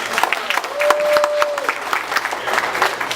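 A stand-up comedy club audience applauds and cheers in a short burst, with a lively, fairly close crowd sound and a voice briefly heard over it.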